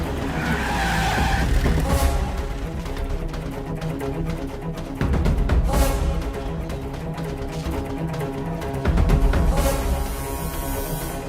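A vehicle in a police stop scene skids and screeches to a halt, with loud bursts of tyre noise recurring a few times over a rumbling engine and background score.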